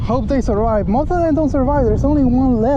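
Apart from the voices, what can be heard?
No everyday noises stand out.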